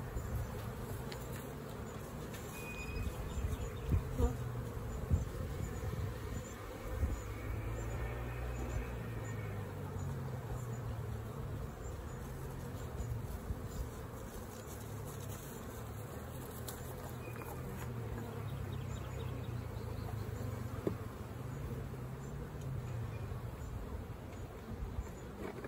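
Honey bees buzzing around an open hive while supers are added, a dense continuous low hum, fairly faint and steady throughout.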